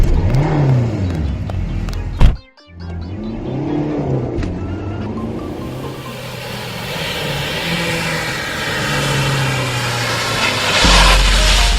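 A car engine revs and accelerates away, with rising and falling pitch sweeps, a sharp thump and brief cut partway through, then a sustained loud engine drone as the car keeps driving.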